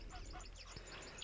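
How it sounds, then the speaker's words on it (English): Geese honking outdoors in a nature setting, a dense continuous chorus of many birds calling over a steady low background rumble, loud and unbroken throughout. "Jeez, you can just hear the geese as always. Very, very noisy."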